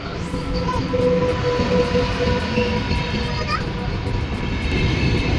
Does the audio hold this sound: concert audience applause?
no